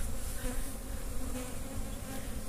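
Honey bees at an open beehive make a dense, even buzz that fills the air close by, steady and unbroken for a couple of seconds, with no talking.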